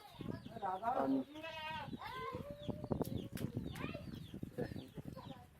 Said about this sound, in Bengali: মুরগির বাচ্চাগুলো এই পাশে এনে রাখছি